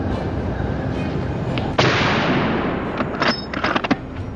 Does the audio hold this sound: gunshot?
yes